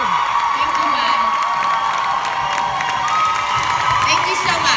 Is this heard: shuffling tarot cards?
no